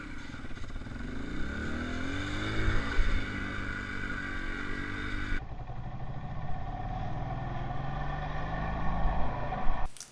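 Dirt bikes are ridden in Spain, the engines droning loud and steady with rising and falling revs and a rough buzz, heard as playback with a sudden drop in tone partway through.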